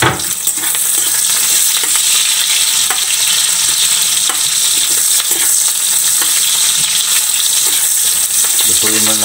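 Garlic and onion fry loudly in a pan for laing na gabe, a steady dense sizzle with occasional stirring scrapes throughout, no talking.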